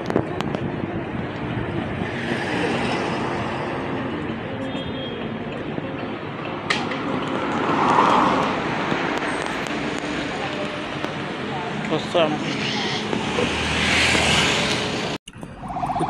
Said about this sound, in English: there are a lot of vehicles. People are moving from one place to another, so people are just going home. That's why you can see this jam